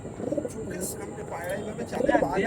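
Andhra Madi pigeon cooing close by, soft low throaty coos repeating through a busy loft background with other birds and faint voices.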